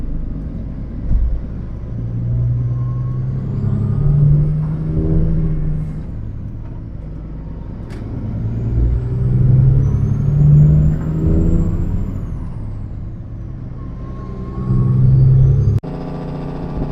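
Heavy snow plow trucks rumble past on a winter road, engines swelling and fading in two broad passes with a hiss of air brakes near the end, loud and continuous with no talk.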